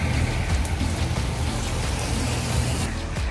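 Heavy rainstorm pours down at a seaside cabin in Uruguay, a steady dense hiss of rain with no gaps, loud and close throughout, with no voices.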